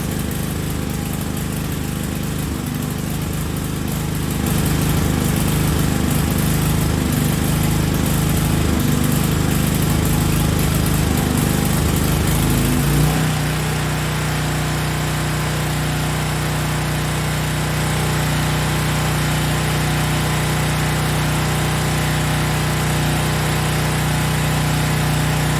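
Small tri-fuel portable generator engine converted for propane and natural gas, running loud and close after a restart, with a steady droning hum that shifts pitch partway through and then settles into an even idle.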